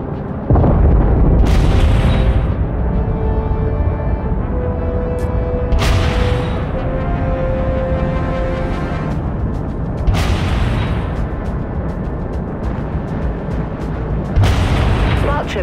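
Heavy artillery support fire in the video game Dreadnought, with loud booming explosions landing in repeated bursts roughly every four seconds over a constant rumbling battle din.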